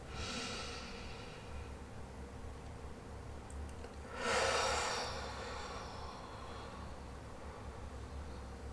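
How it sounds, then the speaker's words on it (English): A slow, deep breath near the microphone during a guided relaxation, with a soft airy inhale early on and a fuller, louder exhale in the middle, over quiet room hiss. "Nice deep breath."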